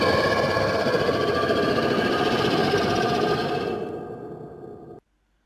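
A monster scream effect for an augmented-reality skeleton character: a sustained, harsh, growling roar that holds steady at full volume for about four seconds, then fades and cuts off abruptly.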